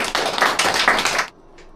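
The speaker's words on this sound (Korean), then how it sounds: "박수 쳐주시기 바랍니다." Audience applause at a literary talk, short bursts of clapping from a small group that stop abruptly after about a second, followed by silence.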